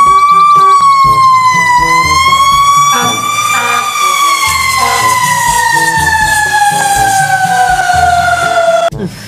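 A toy fire engine's electronic siren wails loud and close, a continuous rising and falling tone over a bright looping toy jingle that runs steadily until an abrupt stop.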